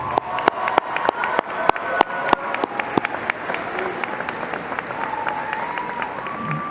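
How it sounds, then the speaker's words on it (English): Graduation crowd at the Eastmont and Wenatchee high schools' Class of 2025 ceremony breaks into sustained applause, sharp individual claps standing out over a dense clapping wash, with a few raised voices and cheers mixed in. "Let's give them another round of applause."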